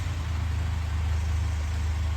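A 2019–2024 Mercedes Sprinter VS30 diesel engine idles steadily after a restart following a fuel filter change, a smooth, even low rumble held close with no talk over it.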